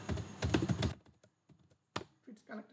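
Keys clatter in a quick burst on a computer keyboard while setting up an ESP8266 board, followed by a sharp single keypress like Enter, then scattered faint taps and a brief murmur of a voice.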